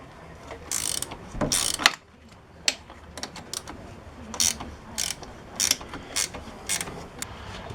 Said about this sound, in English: With the axle out of the way, we'll be able to get the rest of the bolts out